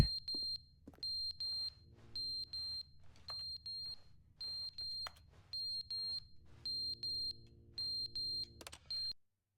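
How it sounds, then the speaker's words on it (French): Loud, high electronic beeping from the video game The Stanley Parable repeats in a steady rhythm of evenly spaced pulses and stops abruptly at the end. "Pourquoi il y a un gros bip bip?"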